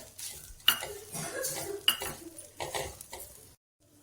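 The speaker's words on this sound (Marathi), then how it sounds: "दाण्याचा कूट छान मिक्स करून घेऊयात।" A spoon stirs crushed peanut powder into Maharashtrian green chilli thecha, making steady close scraping and clinking against the dish, with two sharper knocks before it stops abruptly.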